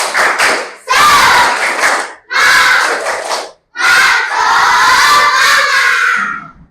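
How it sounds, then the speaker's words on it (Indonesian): Schoolchildren in a classroom loudly chant the tepuk semangat clapping routine together, in several strong bursts of group voices with short pauses between phrases. "Yuk, kita tepuk semangat terlebih dahulu ya."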